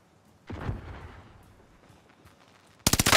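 Gunfire in a Warzone battle royale match: a single loud shot early, scattered faint pops, then a sudden close burst of rapid automatic fire at the end.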